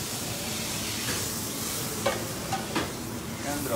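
Pieces of fish sizzling and browning in a hot pan, a steady close crackle with a few brief louder pops and stirring scrapes, no voices.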